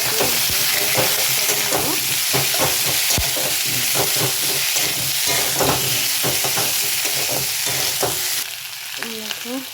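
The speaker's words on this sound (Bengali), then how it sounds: "টমেটো দিয়ে একটু নেড়ে চেড়ে দিচ্ছি।" Potatoes and tomatoes sizzle and fry in a pan for an egg and potato curry, with steady close-up stirring scrapes and clatters, continuous broadband hiss throughout, and a single brief word spoken near the start.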